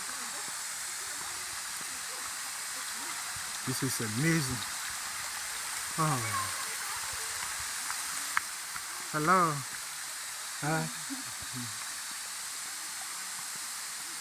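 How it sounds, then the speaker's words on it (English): Kawasan waterfall in Bohol pours out a steady, broad rushing hiss from a short way off. People talk and exclaim over it now and then. "this is the waterfall here, people"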